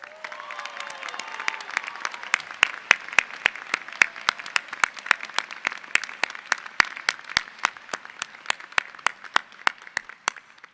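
Audience at a law school convocation applauding and cheering, dense steady clapping with sharp individual claps standing out, sustained for the whole stretch with no talk over it.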